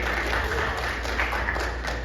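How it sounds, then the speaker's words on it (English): A school chapel audience applauds, a brief steady patter of many hands clapping at moderate distance beneath a low room hum. "More applause to him."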